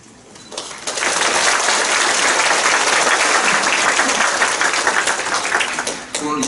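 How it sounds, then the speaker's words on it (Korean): Sustained applause from a church congregation welcoming guests at a pastor's installation thanksgiving service, a dense wash of clapping that swells after a brief quieter start and holds steady for several seconds before tapering. "박수로 환영합니다"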